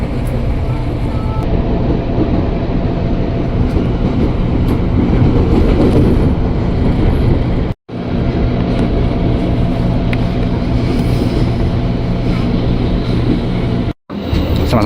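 A KRL commuter train heading toward Bekasi, riding from Bekasi Timur station at midday, gives a steady loud rumble and rolling drone throughout, with two brief dropouts.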